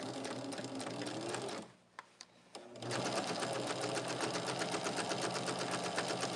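Sewing machine stitching a border onto a Shooting Stars quilt with black bobbin thread, a steady close whir that stops briefly, with a few faint clicks, then resumes.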